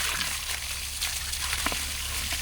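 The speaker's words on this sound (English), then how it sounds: "So I'm going to go back and just fill in all the holes with water." Water from a hose pours steadily into hand-dug post holes about two feet deep for a carport, a constant close rushing, gushing sound that stays at one level throughout.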